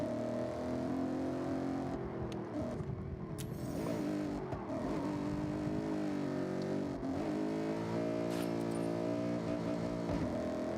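A stock BMW M5 in the racing game Forza Horizon 6 drives with a loud, continuous engine drone whose pitch climbs and dips through gear changes, accelerating with steady revving throughout and no talking.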